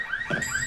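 A car alarm blares inside a video game, a loud electronic warble that repeats rapidly in a steady pulsing pattern with no talking over it.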